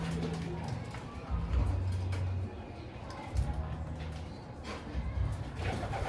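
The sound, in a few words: racing pigeons cooing in loft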